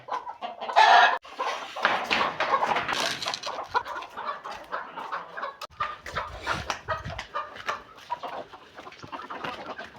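Chickens cluck and chatter continuously in a busy flock in an outdoor poultry yard, with a louder squawk near the start and soft scratching noises underneath.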